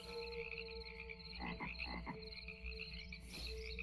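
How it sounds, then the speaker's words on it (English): Frog-like creature croaking in a survival crafting video game, a few rough croaks in a short cluster over a steady ambient tonal background, close and clear with no talking. "It croaks like a frog."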